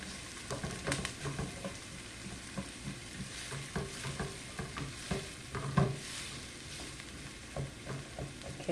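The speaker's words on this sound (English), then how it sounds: "Our onions are sauteed very nicely." Onions sautéing in a pan, a continuous soft sizzle broken by repeated scraping and tapping of a spoon stirring them, close and moderately quiet with no talking.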